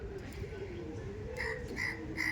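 Madras pigeons in a loft give low, soft cooing calls close by, while someone talks over them.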